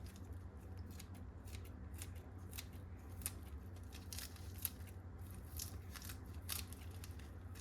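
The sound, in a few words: cutting olives and basil into pasta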